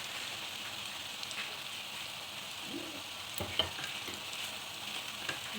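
Chicken and vegetable spring rolls sizzling in oil while being turned over, a continuous hiss of frying with occasional utensil knocks and scrapes, quiet and close.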